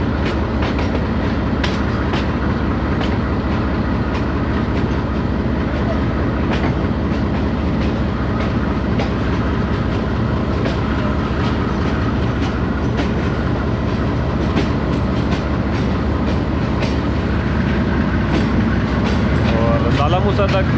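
Subak Raftar railcar with a green-livery rake running on rails between Gujrat and Rawalpindi, a loud steady rumble with rhythmic clickety-clack of wheels heard from inside a coach, continuous throughout.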